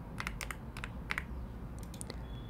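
Quiet computer-keyboard typing of a file name: a few short bursts of keystrokes, close and soft, with pauses between them and no talking.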